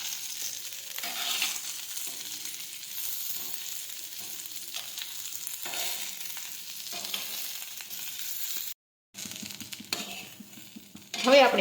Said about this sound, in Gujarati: આ રીતે આપણે ભીંડાની સીંગું છે તે શેકતા જઈશું।